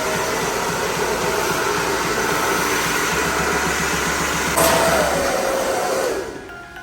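A Wahl Super Dry 2000-watt hair dryer blows with a loud, steady whooshing roar close by, holds constant for several seconds, then briefly shifts pitch and drops off near the end.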